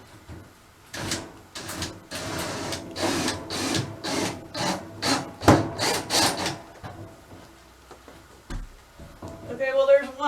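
A power driver whirs in a series of short, rhythmic bursts as a screw bites into wood, then stops; a voice speaks briefly at the end.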